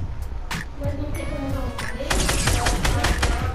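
Enemy gunfire in a Fortnite match: scattered shots at first, then a louder, denser stretch of rapid firing with metallic clinks, over continuous game ambience.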